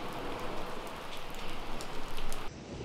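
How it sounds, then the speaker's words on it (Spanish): Heavy rain pours down at a beach, a dense, steady hiss of drops drumming on surfaces close by, loud and continuous with no talk. "si es que llega a parar de llover. Pero ahora mismo es una locura lo que está cayendo"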